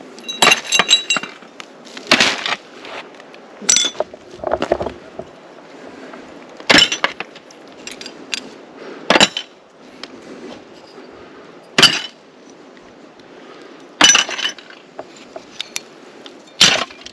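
Broken glass and bottle shards being gathered up from the floor while clearing rubbish out of an old bunker, with sharp clinks and rattles at irregular intervals and quiet rustling in between.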